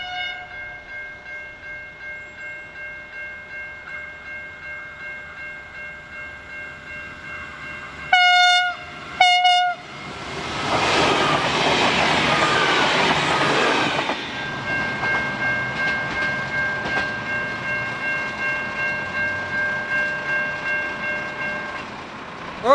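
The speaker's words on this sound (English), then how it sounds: "We're waiting for a velocity, which is what the Merivale Paper Train's waiting for." A train horn sounds in short blasts, then a paper freight train rumbles past nearby with a rhythmic clatter of wheels continuing as it rolls on.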